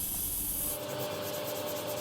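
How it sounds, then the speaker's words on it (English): Sanding a car body panel with 80 grit sandpaper during dent repair on a Suburban, a steady, close abrasive rubbing hiss that continues throughout, its grain shifting slightly partway through. "I'm sanding here with some 80 grit"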